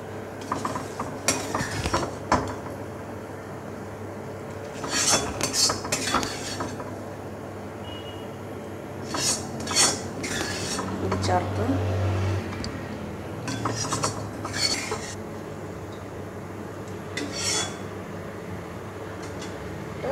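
Roasted grated coconut stirred into a plantain erissery curry in a pot, heard as intermittent metallic scrapes and clinks of a spoon against the pot, in short bursts with quiet gaps between them and no talking.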